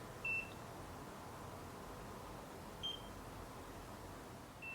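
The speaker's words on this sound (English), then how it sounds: "I lifted it too soon, so you get a bigger beep" Three short electronic beeps from a NIRA laser device sound over a steady hiss, the first near the start, one in the middle and a last one at the very end.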